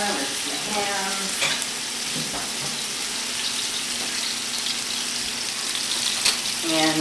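Ground turkey fries in hot oil in a pan with a steady, close sizzle. Running tap water and brief voices are heard under it.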